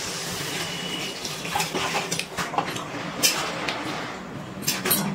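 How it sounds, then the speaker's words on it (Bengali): Water pours steadily into a pot of potato masala for egg biryani, a continuous gushing splash with faint clinks over it. "এবারে এর মধ্যে দিয়ে দিচ্ছি জল।"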